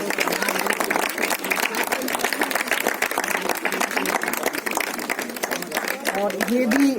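Applause for winning children and their teacher at a district multiplication-table recitation contest, dense steady clapping from a crowd filling the whole stretch, with a voice rising near the end.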